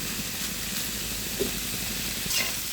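Pointed gourd pieces fry in a pan with oil after their water has cooked off, giving a steady broad sizzle and hiss with a faint scrape or two, heard close and alone.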